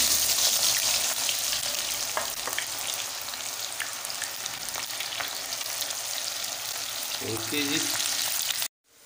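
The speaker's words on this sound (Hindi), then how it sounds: "अब उसमें डालेंगे प्याज।" Onions frying in hot oil in a pan while turnip is being cooked, a steady loud sizzle throughout with a few stirring clatters near the end, then a sudden cutoff; a brief spoken remark is heard.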